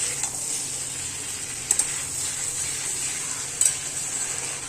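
A curry fries in a pan with a constant soft hiss, and a utensil clanks against the metal twice.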